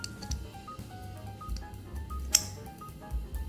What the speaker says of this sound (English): it makes a nice clicking noise